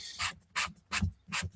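A sanding sponge rubs back and forth over a surface on a shop prop rifle build, four short rasping strokes in an even rhythm, close and fairly quiet.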